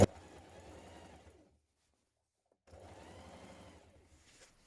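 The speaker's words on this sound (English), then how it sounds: "Top stitch that seam down from the outside, either side of that seam, 7 to 10 millimeters away." A sewing machine topstitches a jacket seam from the outside in two close, even bursts of rapid stitching, with a short pause of quiet between them.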